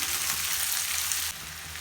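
Sliced onions sauté in a hot pan for a Tamil-style onion masala, giving a steady, close sizzle and crackle with no voices.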